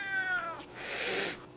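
A cartoon cat lets out a drawn-out meow, clear and close, ending in a breathy, hissing tail.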